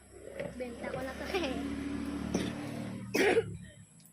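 A man coughs in a short, harsh burst near the end, after a stretch of indoor talk and household noise.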